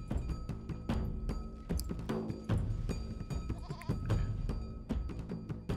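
Goats in Die Siedler: Aufbruch der Kulturen bleat again and again, several overlapping calls over a busy backdrop of clicks and clunks from the game.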